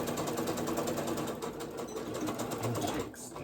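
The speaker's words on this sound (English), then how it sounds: "My sewing machine is messing up here." Home sewing machine stitching pajama pants, a fast steady mechanical whir with rapid needle ticks, running close and loud, then briefly slowing near the end.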